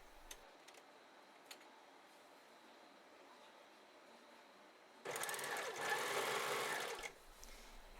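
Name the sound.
overlocker sewing a rolled hem on fabric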